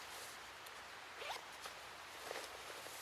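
A short zipper on an Arktis B110 combat smock being pulled, a couple of quick rasping strokes near and fairly faint over a steady background hiss.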